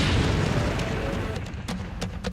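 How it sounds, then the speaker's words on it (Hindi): A drone explodes near a national monument in Lviv, western Ukraine, with a loud, broad roar that slowly fades and is followed by several sharp crackling pops and snaps. "ये धमाका पश्चिमी यूक्रेन के लीव शहर में हुआ"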